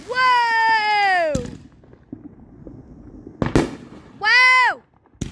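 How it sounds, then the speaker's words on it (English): Fourth of July fireworks going off nearby: a long rising-and-falling whistle cut by a sharp bang, another loud crack a couple of seconds later, then a second shorter whistle, with quiet crackles between. "These guys spend like hundreds of dollars by these fireworks."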